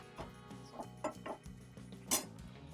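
Maggi masala noodles being stirred in a pan at home, with a soft series of light metallic clinks and scrapes of the utensil against the pan, quiet and close, in irregular taps.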